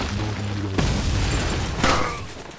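A wire bomb in Resident Evil 4 goes off as a loud booming blast near the start, with a second burst and hiss following a moment later over steady game ambience.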